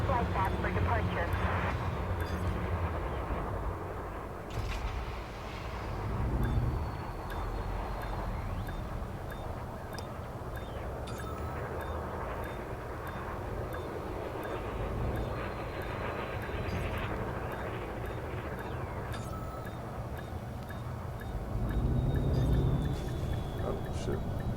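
Spaceship engines rumble steadily as the craft departs a docking facility in a space flight video game, a broad continuous drone with swells around the sixth and twenty-third seconds, mixed with game radio chatter.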